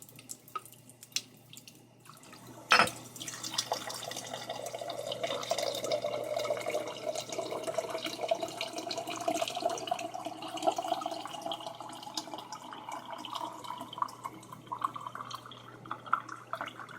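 Hot water from a wood burner heater's pipe runs into a basin as a steady, close trickle and splash, starting after a sharp clunk and continuing evenly for many seconds without speech.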